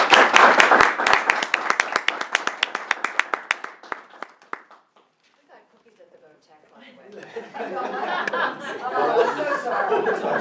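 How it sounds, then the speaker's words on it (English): A room of people gives board members a round of brisk applause for several seconds, tapering to a brief hush. Chatter and laughter from the crowd follow. "Let's give them a round of applause"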